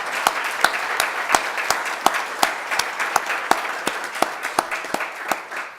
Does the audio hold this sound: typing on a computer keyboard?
no